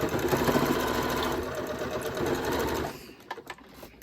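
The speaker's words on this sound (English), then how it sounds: "And then I'm going to just stitch down again about an inch." A sewing machine runs steadily for about three seconds while stitching a fabric face mask, then stops, followed by a few soft clicks and handling noises.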